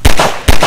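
Two loud, sharp gunshots from a gun in the Garry's Mod video game, about half a second apart, close and punchy with a brief decaying tail after each.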